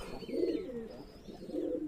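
Pigeons coo in soft, rolling bursts at a pigeon farm in Shibganj, Chapainawabganj, two swelling phrases close by with faint higher chirps behind them and no talking.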